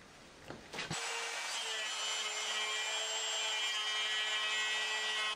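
Router trimming the edge of a wooden miter joint, riding along a wooden strip on a jig; a brief handling noise, then the motor spins up and holds a loud, steady high whine as it cuts.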